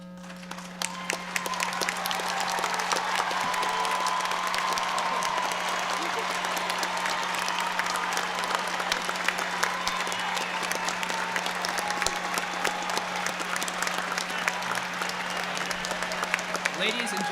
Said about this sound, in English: let's give the class of 2022 a large round of applause